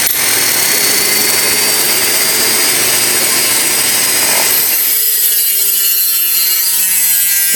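A tool grinds a groove into a gear race from a Ford T5 five-speed gearbox, giving a loud, continuous harsh cutting noise that thins into a lighter, ringing whir in its final seconds.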